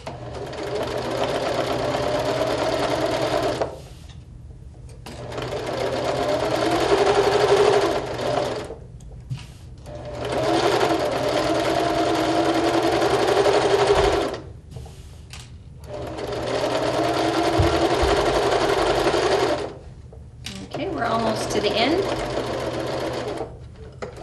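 A sewing machine stitches quilt fabric in four or five long, steady runs of mechanical whirring, separated by short pauses, close and loud, with someone talking between and over the bursts.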